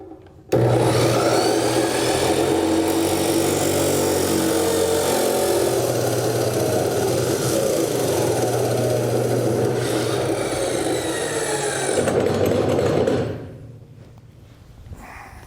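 A power saw trims excess off a 1-1/2 inch wide continuous metal hinge, a loud, steady grinding whine held for about twelve seconds, then it winds down and stops. No talking is heard.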